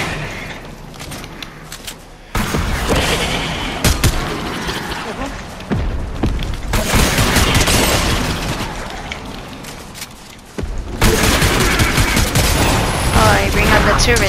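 Turret gunfire in the video game Fortnite, sustained bursts of shots and booms running through most of the stretch, loud and dense, with short quieter gaps, mixed with game noise and voices talking over it.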